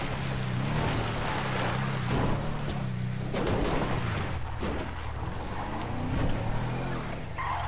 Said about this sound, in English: A little drifting here.